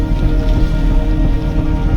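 Steady rain pelting a sailboat out on the open North Sea, a dense even hiss with low rumbling wind and water beneath it, loud and continuous with no voices.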